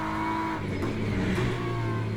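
A GT3 race car engine in the Le Mans Ultimate racing game runs loud and steady throughout, its drone holding without a break and with no talk over it.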